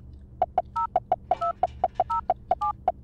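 Touch-tone phone dialing in the Silent Hill: Shattered Memories video game, a steady run of short beeps with a few two-tone chirps mixed in, clear and close, with no one talking over it.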